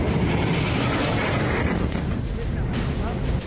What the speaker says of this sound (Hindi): मौत के धमाकों से फिर दहला लेबनान